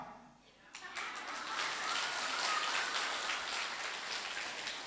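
A woman claps her hands, a dense, steady crackle of slaps that starts abruptly and keeps up without a break, close and fairly loud with no talk over it.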